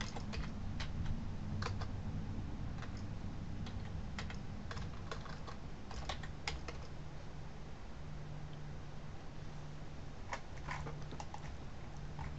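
Steady typing on a computer keyboard as an occupation is entered into a search field, heard as light, irregular clicks and brief clusters over faint background hum, fairly quiet and close with no speech.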